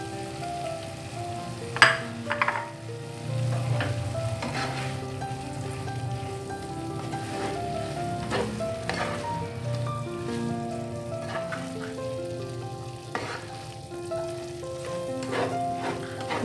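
Fried tuna being stirred into spicy seasoning in a pan, a continuous rain-like sizzle with occasional scraping and knocking of the utensil, close and steady, with no talk.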